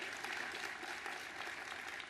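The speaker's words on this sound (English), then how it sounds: "Give her a round of applause." Faint, distant applause from an audience at a conference speech, an even patter of clapping hands at low level sustained across the moment with no voices over it.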